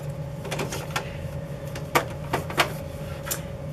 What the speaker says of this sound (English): It is a laser printer.